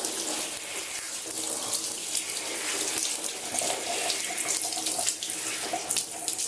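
Steady tap water pours continuously into a sink while hair dye is rinsed out, a constant close splashing hiss with no voices.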